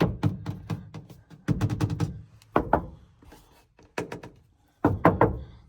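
Knuckles knock on the inside of the cab roof of a square-body short-wheelbase Chevrolet C10 pickup with no headliner, giving dull hollow thumps in several quick bursts and single raps, close and fairly loud, with short pauses between them.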